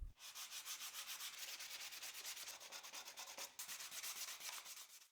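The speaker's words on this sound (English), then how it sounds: "I will use the same 100 grit sandpaper to sand it manually" Hand sanding of scrap wood with 100 grit sandpaper: a steady run of rapid, even rasping strokes, close and fairly loud, with no voices.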